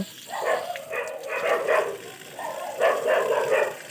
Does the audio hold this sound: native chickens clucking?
no